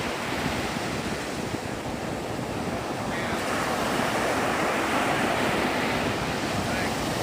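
Ocean surf breaking near Pensacola Beach makes a steady, dense roar of wash and foam that continues without pause, with wind buffeting the microphone throughout.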